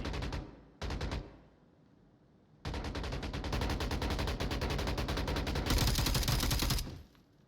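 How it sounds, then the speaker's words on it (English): Gunfire in a firefight in the VR shooter Onward: a few short bursts, then sustained rapid automatic fire lasting several seconds, loud and close. "This is a firefight of skill here."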